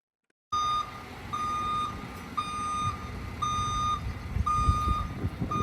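A concrete truck's reversing alarm beeps in a steady repeating pattern, about six evenly spaced tones, loud and close over engine rumble at a backyard patio job.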